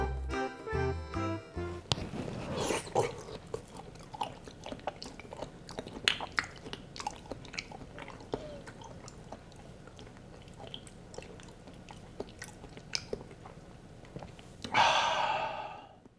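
Raw beef liver is chewed up close, with wet, squishy bites, smacks and breaths coming intermittently after a brief musical intro.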